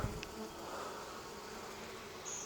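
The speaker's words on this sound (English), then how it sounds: "these are Japanese bees" Steady, faint buzzing of many Japanese honeybees around a hive, a continuous low drone with no voices.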